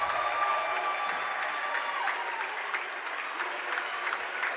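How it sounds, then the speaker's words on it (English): A gym crowd at a high school basketball game applauds Braden Tilly Hahn for reaching 1,000 career points, sustained clapping with a few scattered cheers rolling steadily throughout. "And the round of applause for Braden Tilly Hahn, who has hit a milestone."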